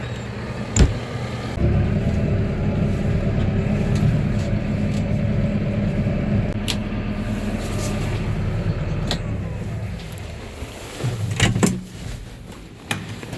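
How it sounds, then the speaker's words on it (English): A heavy loader tractor engine drones steadily at close range for several seconds as it parks in a dairy farm barn, then cuts out, followed by a few sharp clunks. "I'm just gonna throw the loader tractor in here for the night."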